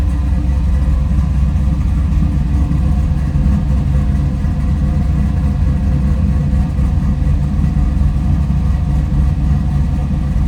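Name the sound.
1970 Chevrolet Nova engine idling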